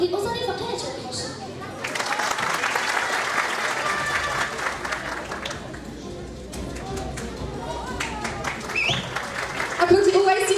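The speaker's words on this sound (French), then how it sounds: "Applaudissez, ouais, s'il vous plaît." An audience at an end-of-year primary school show claps steadily and loudly, the applause swelling and fading over several seconds, with crowd chatter and a voice speaking over it near the end.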